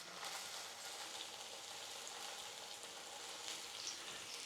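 Pork tenderloin wrapped in smoked bacon sizzles in a pan, a faint, steady crackling hiss with small pops and no talk.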